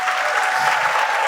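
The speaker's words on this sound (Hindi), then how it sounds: "आइए प्रभु के लिए हम एक अच्छी ताली बजाएंगे।" Audience in a church service clapping together, a dense steady applause filling the room at even loudness throughout, with no voices over it.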